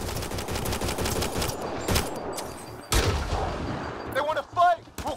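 Gunfire rattles through a firefight in Mass Effect: Andromeda, with dense automatic bursts and sharp individual shots, then electronic warbling effects near the end.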